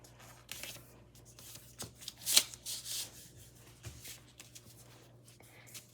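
Paper is folded by hand to make a snowflake, giving soft rustles, scrapes and creases in short irregular bursts, one sharper crinkle near the middle, fairly close and quiet.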